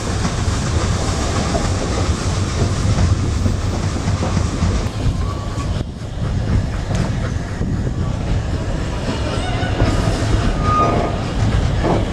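A train on the Welsh Highland Railway rumbles steadily along the rails through Beddgelert Forest, loud and close, with continuous wheel noise and a faint clatter throughout.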